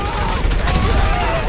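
Rapid gunfire in a Siren Head Spider-Man video game crackles as a dense, continuous burst of shots under a loud wash of game noise.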